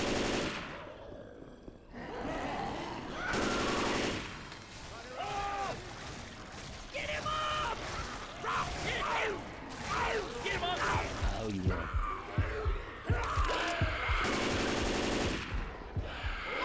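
Gunfire in the zombie shooter Left 4 Dead 2: repeated bursts and single shots of automatic weapons fire in bursts throughout, with voices talking between the volleys.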